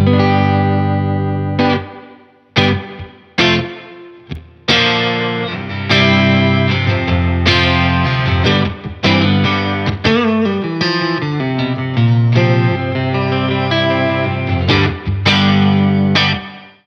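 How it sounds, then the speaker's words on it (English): A Keeley Caverns reverb/delay pedal in its spring mode processes a loud, distorted guitar: strummed chords and single notes ring out with a splashy, echoing tail, a few brief gaps between phrases. "let's move on to the spring now so you can hear that"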